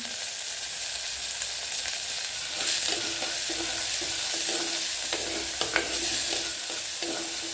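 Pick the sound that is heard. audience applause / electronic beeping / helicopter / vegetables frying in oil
vegetables frying in oil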